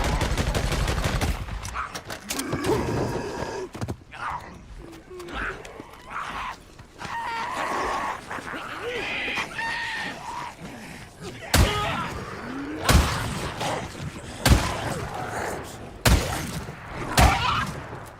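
Gunfire from the video game Days Gone, set in the militia area, comes as a run of loud sharp shots in the second half. Groans, impacts and game noise sit around the shots, with a person talking over parts of it.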